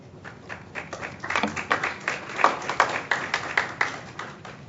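An audience at a 911 reliability certification workshop claps, the applause building from scattered claps into steady, fairly close clapping for several seconds.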